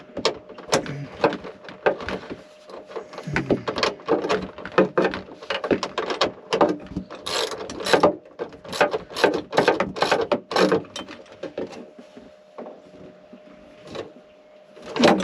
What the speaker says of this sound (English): Get the wrench back on it.